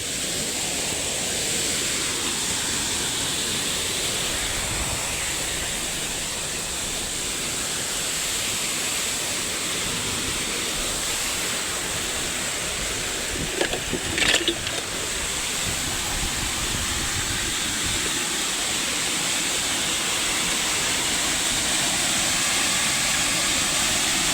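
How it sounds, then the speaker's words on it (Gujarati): A continuous, loud rush of rainwater pouring into a well fills the whole stretch, broad and steady like a cascade falling into a pit. "જુઓ કૂવામાં કેટલું પાણી જાય હે"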